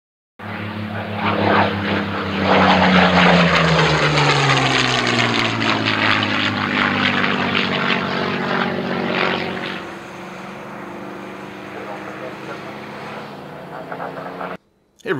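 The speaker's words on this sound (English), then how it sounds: "Shut up, compressor." Air compressor running loud and close in a scale model workshop, a steady droning motor hum with a falling pitch at start that settles, then cuts off and leaves near silence at the end.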